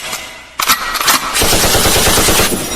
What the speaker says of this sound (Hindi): गोलियों से आवाज होगा।